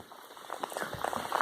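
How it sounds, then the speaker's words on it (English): Rain falls at an outdoor historic mound site, a dense crackling patter on nearby surfaces that grows gradually heavier, with no one speaking. "Rain's starting to pick up."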